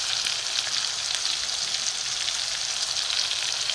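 Spices cook in a hot pan with a ginger and tomato paste, giving a steady, close, even sizzle that holds without a break for a few seconds, with no voices.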